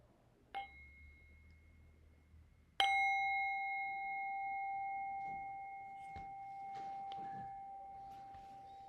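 A mindfulness bell rung during a Buddhist prayer vigil for Oak Flat gives a light first strike, then a louder, clearer strike whose bright tone rings on and slowly fades in a quiet setting with faint background noise.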